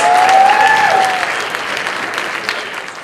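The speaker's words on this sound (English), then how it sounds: "Round of applause, please." A crowd at an illusionist's stage show breaks into applause, loud at first and then easing off into a thinner, steady patter of clapping, with a brief whistle-like tone near the start.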